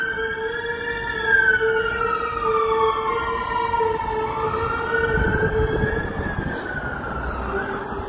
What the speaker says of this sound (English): I'll just let these sirens disappear.